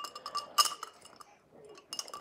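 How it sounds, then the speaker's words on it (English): Ice cubes clink against a pint glass of orange juice in a few light, bright taps separated by quiet pauses, close and fairly soft. "Taking a break with some orange juice in a pint with some ice cubes in it."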